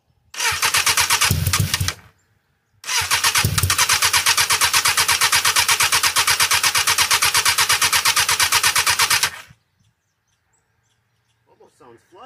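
A 750cc Katana go-kart engine cranks and catches, with two short bursts before running steadily and loudly for several seconds, then cutting out; brief voices follow.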